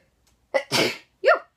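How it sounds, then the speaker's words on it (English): A single sharp sneeze with a quick intake of breath beforehand, followed by a brief vocal exclamation, close to the microphone. "So I gotta sneeze."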